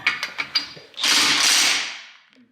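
A new impact gun works on a Subaru WRX car wheel: a few quick mechanical clicks, then a loud, close, roughly one-second whirring burst that fades out.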